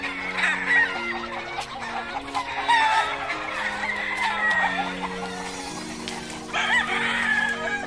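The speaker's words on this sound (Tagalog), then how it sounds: "Ito mga sabong." Fighting roosters and hens at a Filipino sabong make overlapping clucks and crows, with steady chatter and louder calls close by against the background noise of a flock.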